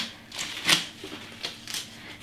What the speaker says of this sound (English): just peel the husks off